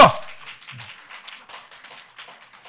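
Church congregation applauding after a call from the pulpit: a dense patter of many hands clapping, starting loud with a sharp onset and tapering slightly but continuing steadily throughout.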